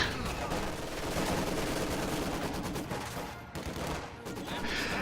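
Sustained gunfire from an MG42 machine gun in the Company of Heroes 2 video game, a dense, loud, continuous rattle layered with other battlefield shots, briefly dipping before the firing resumes.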